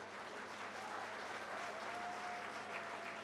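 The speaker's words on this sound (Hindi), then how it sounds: "तालियां कम आ रही हैं भाई।" Faint, thin applause from an audience at an interview event, a low steady patter of clapping that stays quiet and distant for the whole stretch.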